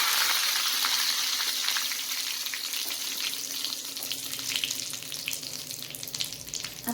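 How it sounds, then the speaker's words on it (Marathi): Curry leaves and asafoetida crackle and sizzle in hot oil on a switched-off gas stove while tomato chutney is being made. The frying hiss is steady, fairly close and moderately loud, with fine popping throughout and no talking. "कढीपत्ता आणि हिंग ॲड करत आहे"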